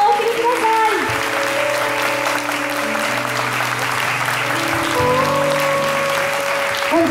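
An audience at a Shinto peace event in Nagasaki gives sustained, loud applause to the guests and performer, a steady wash of clapping under background music, with someone speaking over it.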